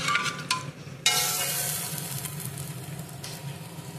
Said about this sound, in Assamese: এইখিনি ভালদৰে ৰঙচুৱাকৈ ভাজি ল'ম।